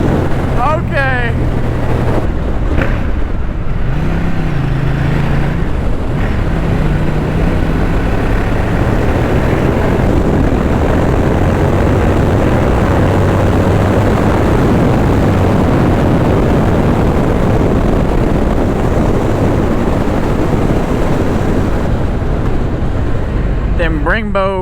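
A Ducati Diavel 1200cc sport bike engine roars continuously while riding, loud and close with heavy wind rush layered over it; a rider's voice is faintly audible early on.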